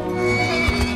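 A horse whinnies in a film trailer, a short, loud neigh over a rich musical background, with a couple of soft thuds near the end.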